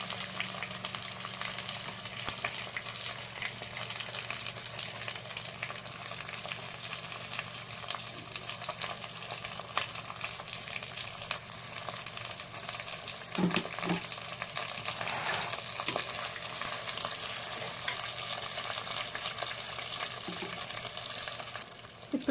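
Masala with puréed tomato, salt and a splash of water frying in a clay pot as it is stirred, a steady close sizzle broken by a few soft scrapes and knocks, with no talking.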